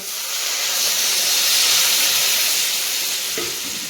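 Water poured into a hot pan for a village-style fish curry with potato, eggplant and spinach sends up a loud, continuous close hiss of sizzle and steam that swells and slowly eases.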